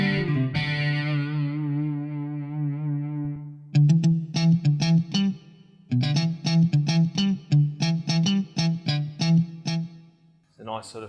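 Funky electric guitar tones from a Roland EA7 keyboard with reverb: a sustained wavering note, then choppy, rhythmic muted strums with effects, stopping and starting in short phrases.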